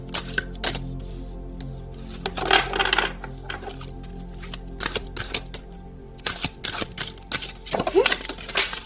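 Oracle cards being shuffled by hand, a run of quick papery riffles and flicks with one card dropping out near the end, close and moderately loud, with faint voice traces in the room.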